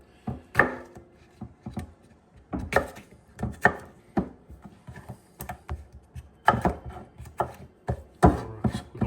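A knife chops bell pepper and onion for an eggplant dressing, making quick bursts of sharp, close taps in irregular clusters with short pauses between them.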